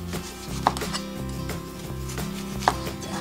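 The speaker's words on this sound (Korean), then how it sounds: "이쪽이 잘라주고요 이쪽도 잘라주고 그리고 나서는 이런 식으로 얇게 슬라이스 하겠습니다" A knife slices thin strips of mandarin orange peel on a board, giving a steady run of close, crisp chopping taps with a couple of sharper knocks.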